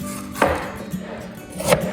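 A knife chops red pepper on a board for a venison stew, two distinct sharp knocks spaced well apart in a quiet kitchen.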